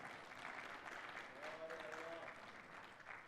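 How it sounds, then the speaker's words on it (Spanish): A church congregation at a Spanish-language service applauds together, producing steady clapping that stays at an even level for a few seconds. A voice is faintly audible within it. "Un aplauso, hermano, un aplauso para nuestro Dios."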